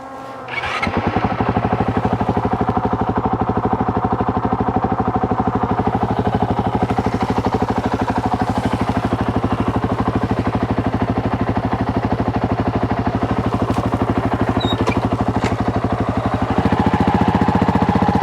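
A Honda CRF450RL fitted with a Graves titanium slip-on muffler runs in a backyard, its engine starting up and then holding a loud, steady, raspy drone close by for the whole stretch.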